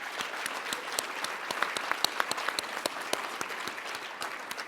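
An audience at an economic justice conference awards ceremony applauds its board members, a steady, moderately distant round of many hands clapping that continues throughout.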